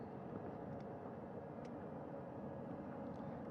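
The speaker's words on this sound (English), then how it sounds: "That second helicopter now making its way back over to the front porch." A helicopter returning to a recovery ship at sea produces a faint, distant, steady rumble that holds evenly throughout, with no voices over it.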